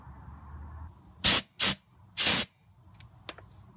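Compressed air shoots through a front brake line on a 1941 Dodge WC12 in three sharp, loud hissing bursts, the last the longest. Quiet workshop background follows.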